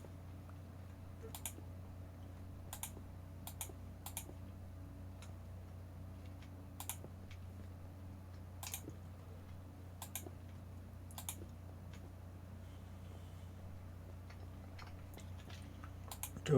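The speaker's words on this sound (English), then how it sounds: "I know you guys can hear the clicking, but that's because I've turned off what you call it, noise compression" Sparse, faint mouse or keyboard clicks from a computer during Minecraft play, isolated sharp ticks scattered every second or two over a low steady hum, with no talking.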